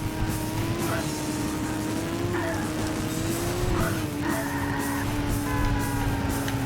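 In Burnout 2: Point of Impact, a car races flat out down a road, its engine droning steadily with rising and falling pitch shifts as it accelerates, loud and continuous throughout.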